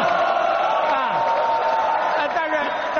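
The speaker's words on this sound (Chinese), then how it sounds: "看战友对你的欢呼" Soldiers cheer and shout together at a military talent show held at the Nanjing Military Region headquarters, a dense, steady wall of many voices lasting throughout.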